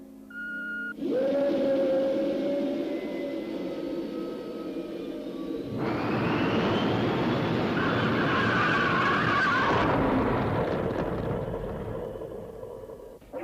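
A stolen car fleeing robot police in the film THX 1138 roars and skids, a loud sustained engine whine and tyre screech that shifts and swells partway through before fading.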